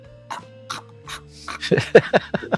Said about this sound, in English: every time I cough, nothing comes up